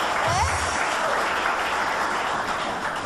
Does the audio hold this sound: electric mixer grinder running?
no